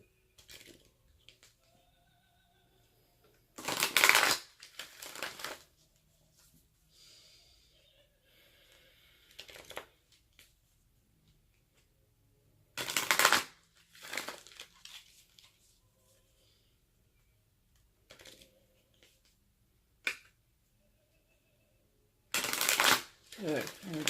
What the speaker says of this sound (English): Let's get a few shuffles in here for you.